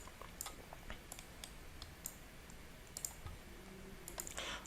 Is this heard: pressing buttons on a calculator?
yes